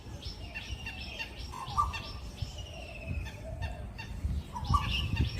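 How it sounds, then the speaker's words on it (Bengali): Birds at a village pond call and chirp in repeated bursts, some honking notes among them, over a steady bed of outdoor ambience. The calls come at moderate distance and stay clear throughout. "এই পুকুরটার মধ্যে কিছু পাখি রয়েছে যারা খেলাও করছে"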